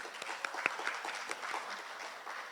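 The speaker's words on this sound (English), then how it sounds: "A round of applause for our nominees." Audience applause for the nominees at a national youth awards ceremony, a soft, distant ripple of clapping with a few sharper claps near the start.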